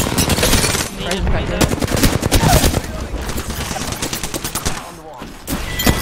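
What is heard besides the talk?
gunfire from the video game Apex Legends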